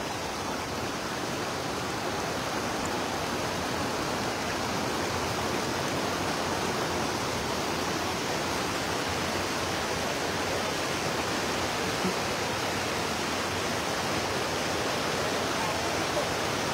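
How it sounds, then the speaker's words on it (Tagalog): A large river rushes past in a steady, loud, unbroken roar of flowing water that persists throughout, at a riverside fishing spot. "Malaki ang ilog."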